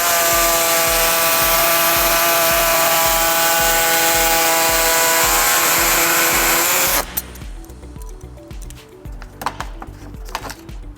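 A power tool whines steadily and loudly while cutting the plastic air deflector on the bumper of a 2017 Toyota Highlander, then stops abruptly, leaving quieter handling clatter and faint knocks.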